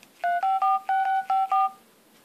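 Keypad tones from an Xperia Play running an iOS-style dialer, seven short dual-tone beeps pressed in quick, slightly uneven succession, clear and close with no talking.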